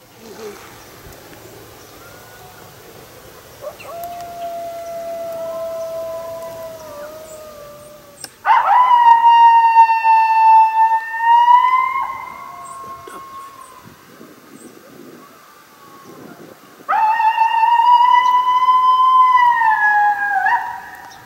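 A faint distant coyote howl is followed by two louder, closer coyote howls answering a predator call, with sharp onsets and long sustained wavering tones, quiet gaps between them.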